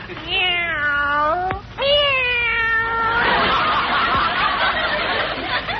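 Cats kept in a cage in an old radio comedy, meowing in two long, drawn-out wavering cries, loud and close, followed by a noisy hissing stretch.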